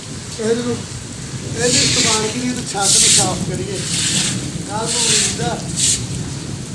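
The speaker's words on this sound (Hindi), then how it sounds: "बारिश हो रही है" Heavy rain hisses steadily under someone speaking on a village rooftop, with bursts of louder splashing or pouring water between his words.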